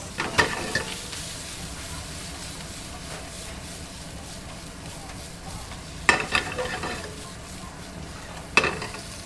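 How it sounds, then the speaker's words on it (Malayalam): Shredded chicken stir-fries with butter in a pan, giving a continuous low sizzle with a few sharp scraping clatters of a utensil spaced several seconds apart. "ബാക്കി നമ്മളൊന്ന് പിച്ചെടുത്ത ചിക്കനില്ലേ, അതുകൂടി ഒന്ന് ഞാൻ മുരിച്ചെടുക്കാൻ പോകട്ടോ"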